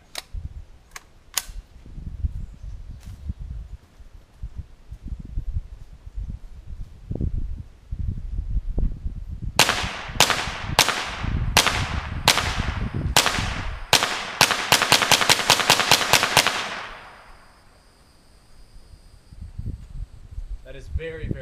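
An MP40 submachine gun with a large magazine fires in a backyard at an air conditioner: several loud single shots, then a rapid automatic burst, each crack sharp and close, with some background noise before the shooting.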